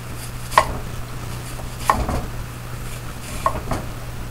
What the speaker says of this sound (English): now we're gonna chop